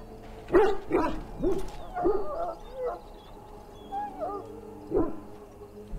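A dog whimpers and yelps in Dragon Age Origins, several short whiny cries and yips spaced across the moment, fairly close and clear, with no talk over them.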